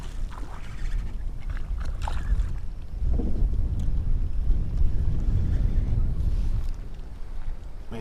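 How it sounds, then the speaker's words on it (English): Steady wind rushes and buffets the microphone on open water from a Hobie pedal kayak, a low continuous roar that swells louder midway, with faint water slapping against the hull beneath. "Man, this wind is getting a little ridiculous."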